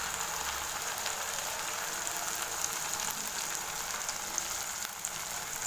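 Onion, garlic and roasted ground masala sauté in a pan with a steady, soft frying sizzle that runs unbroken throughout, fairly quiet and close, with no voices.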